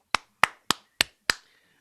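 An open mic audience gives five sharp, evenly spaced claps. Each clap is crisp and close, with a short decay, and there is silence between them.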